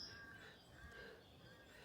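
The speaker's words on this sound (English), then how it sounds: "Song thrush in the distance as well." Distant song thrush song drifts through quiet outdoor ambience at Undercliff Drive, St Lawrence, Isle of Wight, a few thin calls repeating faintly over a soft, steady background.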